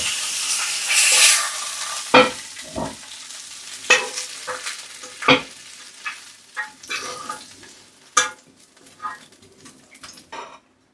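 Pork belly and spring greens fry in a pan with a soft sizzle underneath. Sharp clacks of utensils and stirring against the pan break in at irregular moments throughout.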